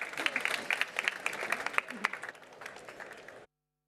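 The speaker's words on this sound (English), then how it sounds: "This is your applause" Audience applause at a science award ceremony, a dense patter of many hands clapping at moderate distance, steady for about three seconds and then thinning out before it stops abruptly.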